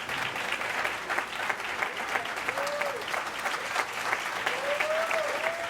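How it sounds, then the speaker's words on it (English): An audience at a United Way gala in Anderson, South Carolina, honoring African-American leaders, gives steady, sustained applause throughout, with a few whistles rising above the clapping. "Yes, you can stand up and applaud."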